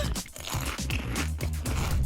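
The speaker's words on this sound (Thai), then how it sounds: "เลิกกินขนมขบเคี้ยวได้แล้ว" Someone crunches and chews snack food in a cartoon, with steady dense biting and crackling close up that runs continuously throughout.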